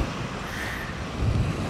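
Wind-driven waves wash steadily against the shore of Pantabangan Dam, a soft continuous surf mixed with wind noise on the microphone.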